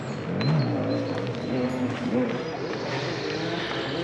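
Distant motocross bikes whine and rev, rising and falling in a steady drone, with a voice murmuring faintly over them.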